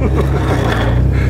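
A truck on Treadwright Guard Dog MT tires spins its wheels in snow, giving a steady, loud engine roar with a grinding, scraping rush, close by and continuous.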